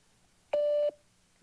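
Answering machine on a phone hotline gives a single clean electronic beep, about a third of a second long, loud and alone against faint background hiss.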